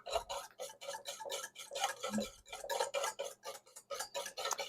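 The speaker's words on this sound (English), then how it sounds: "I am just going to whisk some in here very gradually" A whisk scrapes rhythmically in a bowl as olive oil is gradually streamed into a salad dressing for a kale and butternut squash salad, giving fast, steady rasping strokes close up with no talking.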